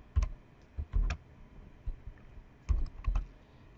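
Keys tapping on a computer keyboard in short clustered bursts with brief pauses between, close and fairly quiet, with no talking.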